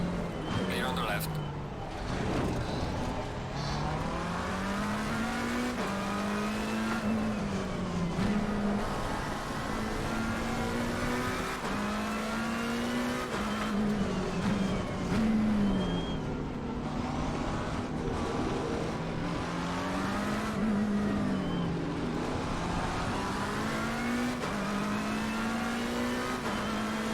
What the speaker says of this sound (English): Oh, we got kind of a faster car there next to us.